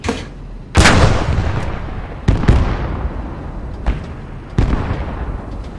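A tank cannon fires in the World War II game Post Scriptum, with four heavy booms spaced a second or two apart. Each blast has a sharp onset and a long rumbling decay, and there is no talk.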